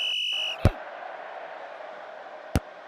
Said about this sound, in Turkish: İşte son düdük.